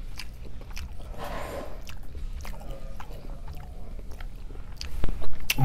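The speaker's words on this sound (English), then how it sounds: "I'm sorry, I'm chewing. There's a lot of chewing in this." Someone chews food close to the microphone with steady moist mashing and occasional soft crunches that continue throughout, joined near the end by a few louder knocks.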